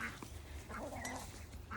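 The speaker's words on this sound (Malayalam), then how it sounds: "പിന്നെ കുറേയേറെ താറാവുണ്ട്" Several ducks on a small farm in Montenegro quack in short, fairly faint bursts against a noisy outdoor background, with no one speaking.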